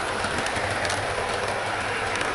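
Model Class 395 Javelin high-speed train running on a layout, a continuous close whirring roll with rapid clicking of wheels over track joints, steady and unbroken with no voices.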